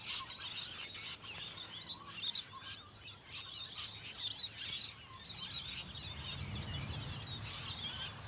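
Green parrots in Australia give repeated high, shrill chirps and squawks in irregular bursts from several birds, moderately close over a low background rumble, with no voices.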